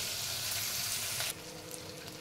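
Tomatoes sizzling in a hot pan while cooking a masala rice dish: a steady, loud hissing fry that suddenly drops to a softer sizzle partway through, close by.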